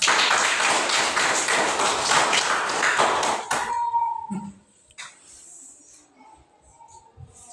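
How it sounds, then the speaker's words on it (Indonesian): Classroom applause for a pupil at an elementary school, a dense burst of many hands clapping for about three and a half seconds, then stopping abruptly, leaving faint room sounds and a few scattered taps. "Tepuk tangan dulu untuk Ceko."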